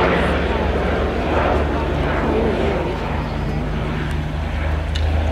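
A de Havilland Canada Dash 8 turboprop airliner flies a handling display at Omaka in 2009, its steady broadband propeller and engine drone sustained throughout while a commentator talks over it.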